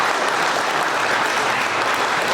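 Dense, steady applause from a crowd at an 80th birthday celebration for an elderly woman, filling the whole moment with continuous clapping at an even level and no talking over it.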